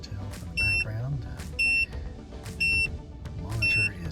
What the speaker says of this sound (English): the monitor is beeping